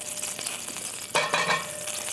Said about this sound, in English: So we're going to just saute these greens very quickly.